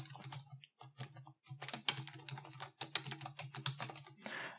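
Someone types on a computer keyboard while entering data into an Excel spreadsheet, with close, crisp rapid keystrokes in irregular bursts separated by short pauses.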